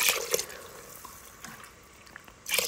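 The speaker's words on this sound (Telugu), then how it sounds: "తర్వాత 5 cups వాటర్ పోసుకున్నాను" Water poured into a pot of soaked Sona Masoori rice with coconut milk, a few short splashing bursts at the start and end with quieter trickling between, close to the microphone.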